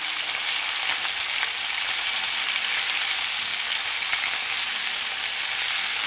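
Meat just flipped in a hot steel pan gives a loud, steady sizzle that runs unbroken from start to finish, with no voices over it.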